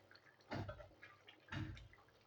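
Thick rajma (kidney bean) curry is tipped into a serving bowl in two wet, sloppy pours about a second apart, each splatting close by and then trailing off quietly.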